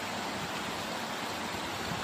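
Pișoaia Waterfall in Vidra commune, Alba county, Romania, in the Apuseni mountains: a dense, steady rush of falling water, broadband and unbroken at constant loudness, with no voices.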